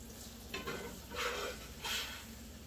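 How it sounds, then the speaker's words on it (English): Sausage is pushed around in rendered fat in a pan, giving a steady low sizzle with three louder scraping, stirring bursts, no one speaking. "pour that in here and just start moving that around, incorporating all of the fat, and then start moving the sausage in there"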